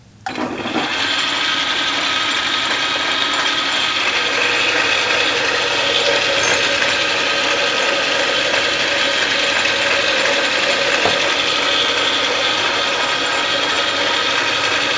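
A metal lathe cuts bar stock at a depth of twenty thousandths, a steady loud mechanical whir and grind that starts abruptly and runs unbroken, with no talk.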